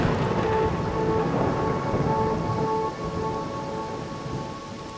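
Rain falling steadily over a city, with low rumbling thunder running under the downpour, a continuous, moderately loud wash of sound with no voices.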